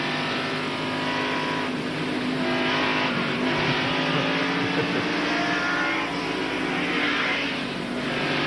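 NASCAR stock cars racing in the 1992 Food City 500, a loud sustained roar of engines from cars running bumper to bumper on the track, continuous and close without any commentary.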